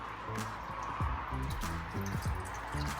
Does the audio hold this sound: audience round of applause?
no